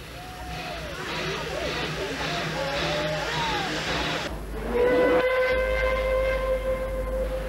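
A steam train whistle sounds on a special Scout train, a long steady tone rising clearly over hissing steam and rail noise after a stretch of rumbling ambience and background chatter.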